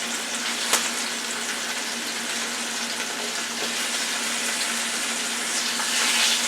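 Chicken pieces fry in a pan for a Spanish chicken stewed with sofrito, giving a steady, close sizzle with soft crackles and no talking.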